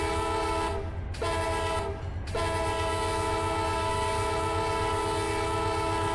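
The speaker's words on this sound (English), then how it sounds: "This is a good running little train, guys." A two-unit electric freight train rolls along with a steady mechanical drone and a repeating low rumble, its horn sounding in sustained blasts broken by two short gaps.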